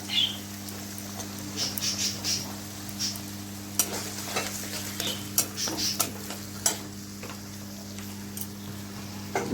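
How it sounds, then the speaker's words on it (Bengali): Two chopped onions fry in a pan over fried ginger and garlic for a mixed vegetable dish. A soft, steady sizzle runs under a low hum, with scattered clicks and scrapes from stirring. "খুব তাড়াতাড়ি পেঁয়াজটা ভাজা হয়ে যাবে"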